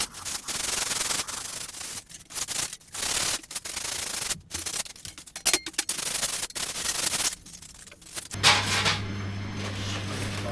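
A scraper chipping and scraping excess filler flat on a wall, rough irregular scraping strokes in close, loud bursts with short gaps, ending in a brief steady hum.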